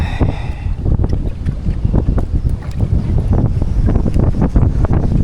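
Strong gusty wind buffeting the microphone while kayak fishing after a storm, a loud continuous rumbling roar with choppy bursts and faint water sounds underneath, no talk.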